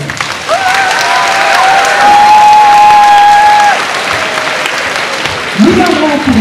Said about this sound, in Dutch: Dus een applaus waard, denk ik.